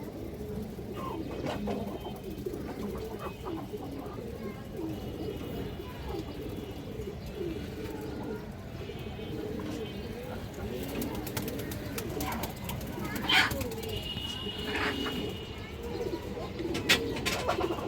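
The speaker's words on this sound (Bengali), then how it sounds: "বড় সাইজের একটা সবুজ গলা লাল গিয়ারের নর কবুতর আছে" Pigeons, including green-necked males and high flyers, coo in soft repeated murmurs against a low, noisy background, with a few brief sharper chirps and knocks near the end.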